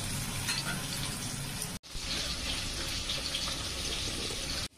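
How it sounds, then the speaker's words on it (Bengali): Chilies tempered in hot oil for a Bengali dish of yardlong beans with poppy seed paste: a loud, continuous crackling sizzle, briefly cut off once before resuming just as fiercely. "দেখুন এই যে তেলে লঙ্কা ফোড়ন দিয়ে দিলাম।"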